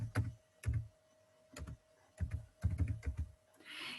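A word being typed on a computer keyboard, several short bursts of clustered key clicks separated by brief pauses, close and clear with no voices.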